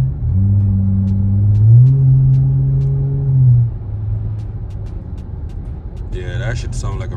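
A car with a bottle-style performance exhaust resonator revs in a few rising and falling pulls. The droning exhaust note is near and loud, then settles to a rough idle rumble, with brief sounds near the end.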